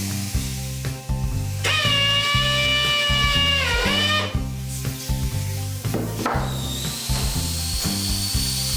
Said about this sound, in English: actually drill a hole just where the split stops, and the idea of that is we don't want to spread any further.